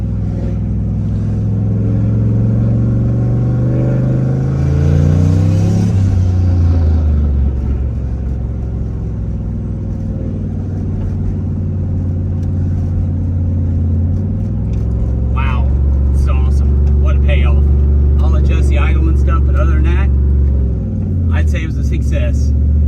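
A turbocharged Ford Mustang, freshly swapped from automatic to manual, is driven from the cabin, its engine rising through revs, dropping at a shift and pulling hard again with whooshing turbo and rattles, while someone talks intermittently.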